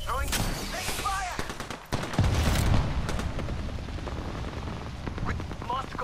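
Dense rattling gunfire from an Apex Legends match, steady bursts filling the whole stretch with a brief dip partway, mixed with faint game voice lines.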